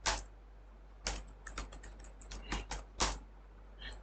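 Quick bursts of key clicks on a computer keyboard as a new password is entered, a few isolated taps followed by a rapid irregular run of keystrokes, close and fairly quiet with no voices.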